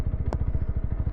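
A Jawa FJ 2025 motorcycle rides along in second gear, its engine giving a steady, fast, low-pitched thumping pulse, loud and close, with one brief clatter partway through.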